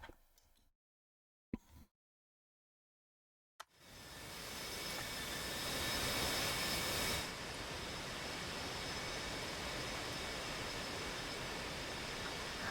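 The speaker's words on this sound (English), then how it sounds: "Let's watch their takeoffs this time." After a few brief clicks and near-silence, a broad jet roar swells up and holds steady as HRP aircraft take off, loud and sustained, with a rushing hiss and no voices.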